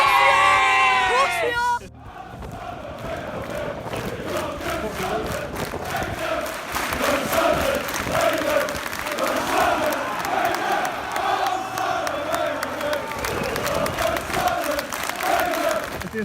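A crowd of football fans lets out a big, loud sustained cheer after a 1-0 win in difficult conditions, with shouting and whooping layered over the roar throughout.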